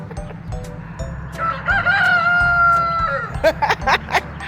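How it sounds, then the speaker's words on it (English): A rooster crows loudly nearby in one long drawn-out call, with hens clucking in short bursts before and after over a low background hum. "look at her chickens"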